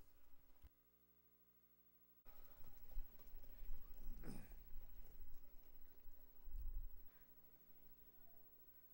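Harness racing trotters at Kawartha Downs, their hooves clip-clopping rhythmically amid a noisy track atmosphere, moderately close, with a louder thump near the end and faint voices in the background.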